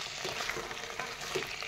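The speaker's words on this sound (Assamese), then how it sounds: "এনেদৰে তল ওপৰ কৰি এয়া লৰাই দিছোঁ" Chicken pieces for a curry, coated in red chili powder, turmeric, salt and spices, sizzle softly in a pan while being turned over with a spoon, giving a steady, low frying hiss with faint scraping stirs.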